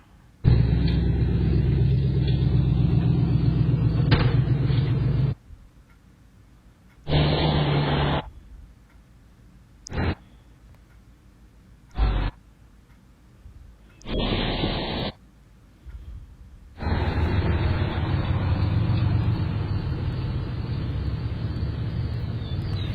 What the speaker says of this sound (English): Yeah, these are all just cars.